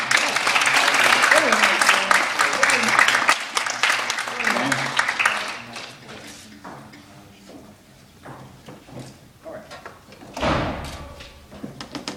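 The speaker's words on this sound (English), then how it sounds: "Give them another round of applause" A round of applause for a school jazz clinic group at a concert, loud sustained clapping from an audience that fades out over several seconds, followed by quieter room noise, a thump and a brief talking voice.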